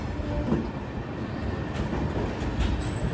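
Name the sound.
Himsagar Express train arriving at Katra station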